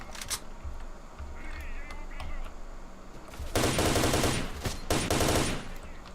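Loud bursts of automatic gunfire rattle in S.T.A.L.K.E.R. Shadow of Chernobyl, two dense rapid volleys following quieter game ambience with scattered background noise.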